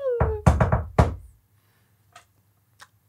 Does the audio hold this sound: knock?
yes